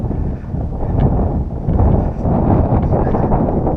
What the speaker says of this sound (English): Don't let the wind bother y'all.